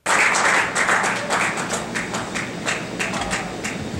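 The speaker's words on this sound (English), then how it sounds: "Thank you to the one person who kept clapping until I touched the microphone." A comedy club audience applauding a stand-up comedian, a dense burst of many hands clapping that starts abruptly, stays loud and close, then thins slightly while continuing steadily to the end.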